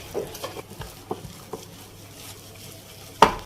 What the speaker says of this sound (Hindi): बहुत अच्छी तरह से इन सब चीज़ों को मिक्स कर लेना है।